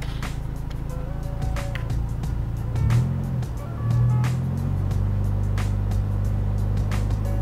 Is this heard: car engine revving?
yes